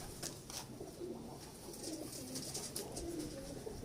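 Heera Lal pigeons give low, repeated coos in a short stretch of steady background noise, with faint rustling from being handled.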